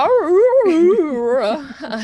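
A voice imitates a puppy howling and whimpering, one long wavering, sliding tone that rises and falls, loud and close.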